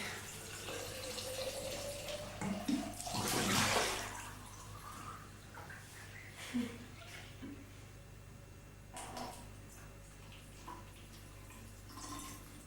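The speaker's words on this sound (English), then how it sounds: "It's actually vodka we're putting in here, not water at all." Vodka pours into a container during a Siberian cycling expedition, giving a burst of splashing liquid near the start followed by scattered drips and clinks, fairly close and moderately loud.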